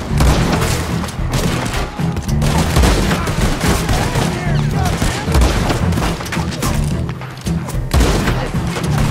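Dense, loud shootout from Red Dead Redemption 2, overlapping gunshots and heavy booms rolling continuously, with a voice talking in the middle of the fire.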